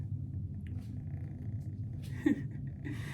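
A low, continuous purr rumbles close by, with a faint squeak and some light rustling near the end.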